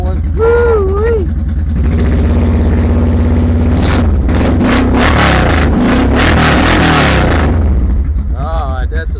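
A loud motorcycle engine runs close by, idling roughly and then revving hard in a burst of rising throttle before easing back, with someone speaking over it at the start and end.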